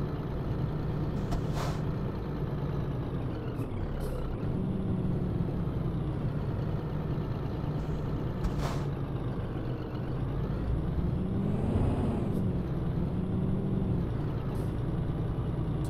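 A Scania truck descends a paved mountain road in Truck Driving Simulator, its engine droning steadily throughout while several short, sharp air-brake hisses burst out at intervals.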